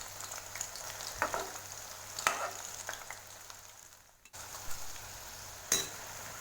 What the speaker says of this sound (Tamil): 2 பக்கமும் நல்லா ஃப்ரை ஆகிடுச்சு